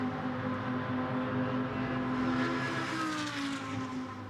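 GT2 race cars scream past at Monza, a high engine note with clear harmonic tones that sweep downward as a car passes, then fade, heard at some distance without talk.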